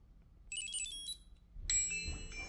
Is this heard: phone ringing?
yes